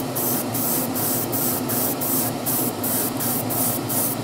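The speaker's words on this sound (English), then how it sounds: "put that in the airbrush and see what it's like when it comes out" Airbrush test-spraying paint for a Model Factory Hiro Alfa Romeo Tipo 33/2 kit, a steady hissing jet with regular short pulses of the trigger, loud and close with an extractor fan running behind, no voices.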